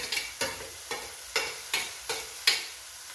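Tomatoes and coriander leaves sauté in a pan: a close series of about seven brisk stirring scrapes, each a sharp burst of sizzle fading quickly, in a steady rhythm with no talking.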